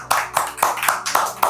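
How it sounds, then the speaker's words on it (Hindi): A church congregation claps hands in a steady rhythm, about six loud, even claps in quick succession. "हालेलुया, ताली बजाइए।"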